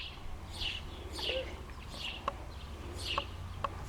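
An outdoor bird chirps repeatedly in a steady rhythm of bright, short calls, moderately near over a constant low background hum.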